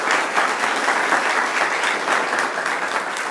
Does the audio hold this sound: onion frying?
no